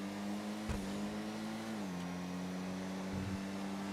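A car engine drones steadily in a video game, its pitch holding, then dropping smoothly as if shifting or easing off, with brief thumps from the surface and no talking.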